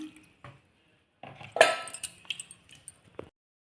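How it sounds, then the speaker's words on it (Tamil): Coconut milk poured little by little into idli batter and mixed by hand in a bowl, giving soft wet squelches, drips and a few light clinks against the vessel, close and fairly quiet with pauses between. "இப்போ இதில் தேங்காய் பாலை கொஞ்சம் கொஞ்சமாக சேர்த்து கரைச்சி விட்டுக்கலாம்"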